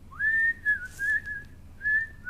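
A person whistles a thin wavering melody close by, in short connected phrases with brief breaths between them and no talking.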